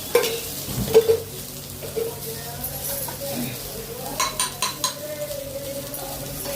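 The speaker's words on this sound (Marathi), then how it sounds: "आता आपण आहे ना ठेच्याची परतून घेऊ थोडा" Thecha, a crushed chili paste, sautéing in a pan with a soft sizzle, punctuated by utensil clinks and scrapes against the pan, while a person talks over it.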